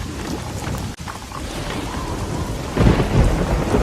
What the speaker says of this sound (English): I don't think we've ever been out in such a terrible storm.